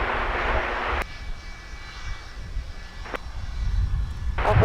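A Delta A220 airliner arriving on runway 12 right at Minneapolis–St. Paul Airport: a steady, moderately loud jet engine roar with a brief sharp transient in the middle and a swell of broadband noise at the end, no talk.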